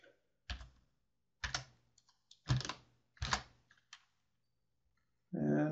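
A few bursts of typing on a computer keyboard come in short, separated clusters of key clicks while code is written. The clicks are close and crisp, with quiet gaps between them and a brief voice at the end.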